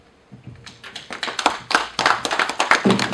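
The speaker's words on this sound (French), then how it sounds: "Applaudis pour l'honorable." A small audience at a Paris diaspora gathering claps for an honourable deputy, the applause building from a few scattered hands into a dense, steady round of clapping close by.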